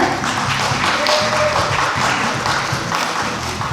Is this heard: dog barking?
no